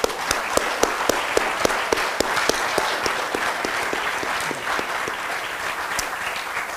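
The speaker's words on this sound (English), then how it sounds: "Let's give them one more round of applause." Audience at a Constitution Lecture Series event gives a sustained round of applause, with dense, steady clapping from a sizable crowd that continues at an even level throughout.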